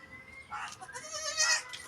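A young goat kid bleats for its departing mother, a few close, loud, wavering cries in quick succession against a quiet rural home background.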